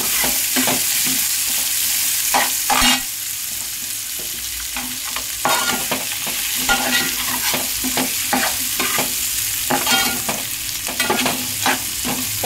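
Cut eggplant fries in a pan for a stuffed-eggplant tamarind curry, a steady close sizzle broken by repeated scraping stirs, with no talking.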